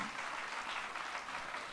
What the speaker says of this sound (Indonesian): Mari tepuk tangannya, jangan ragu.